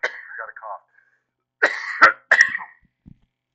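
A close voice speaks briefly, then a few sharp, raspy coughs follow in quick succession during a relaxed gaming session.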